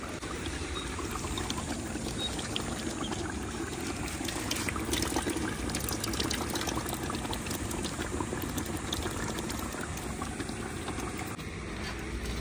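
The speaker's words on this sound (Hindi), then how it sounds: "अब ये मिसाले भुने जा रहे हैं" Spices roast in a pot over a village fire for pulao, giving a steady bubbling sizzle that stays even and fairly close throughout without any talking.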